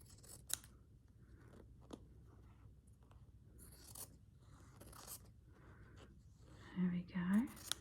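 Scissors snip through quilt fabric in slow, separate crisp cuts with pauses between them, close by and fairly quiet, and a soft voice murmurs briefly near the end.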